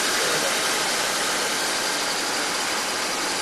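A running General Motors car engine produces a steady, even hum with a broadband hiss over it, continuous and moderately loud, with no voices over it.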